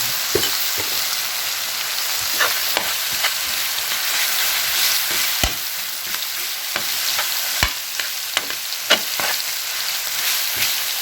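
Garlic frying in a pan, a steady broadband sizzle running throughout with scattered sharp clicks and scrapes from stirring, close and fairly loud.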